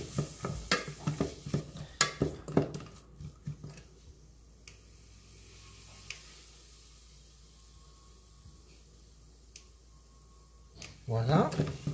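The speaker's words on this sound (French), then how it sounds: "on va faire cuire un peu l'oignon dans le beurre et le sel" Chopped onion cooks in butter with salt in a pan, giving a soft steady sizzle. Spoon stirs and utensil clatter come at the start and end, and a voice speaks over it.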